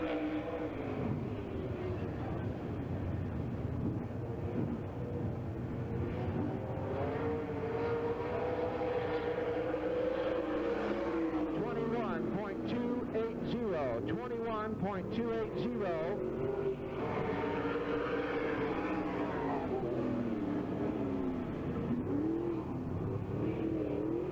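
A Bullet Camaro race car runs a time trial lap at Hagerstown Speedway in 1995, its engine droning and revving steadily for over twenty seconds at a distance, with a track announcer talking over it throughout.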